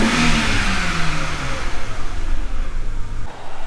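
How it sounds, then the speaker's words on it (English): A BMW engine revs up and back down through changing RPM, a loud close mid-pitched engine drone with rising and falling tones and a steadier hum as it settles, with no talking. "As I change the engine RPM"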